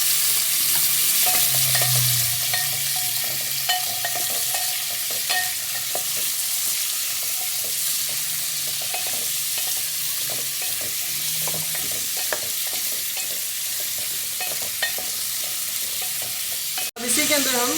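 Potatoes and carrots fry in a pan with a steady, dense sizzle close by, and occasional soft stirring scrapes break through the constant hiss.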